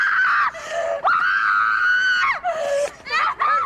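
A girl in the film The Lie screams hysterically in long, shrill, wavering bursts broken by short gasping pauses, loud and close.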